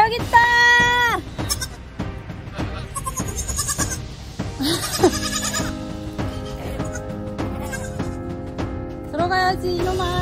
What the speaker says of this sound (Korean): 아기 염소 여기 있다.